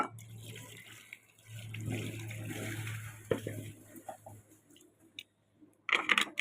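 Tap water runs and splashes while the water is changed for lotus seedlings in a small container, a steady pour with brief clinks and a short louder splash near the end, no voices.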